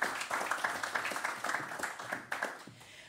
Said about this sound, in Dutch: Een heel hartelijk applaus